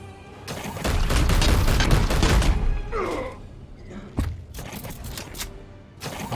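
Rapid gunfire bursts from the video game Chaos Gate: Daemonhunters, loud and dense for a couple of seconds, followed by scattered sharper shots and game sound effects.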